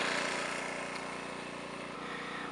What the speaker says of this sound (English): right down there is the generator.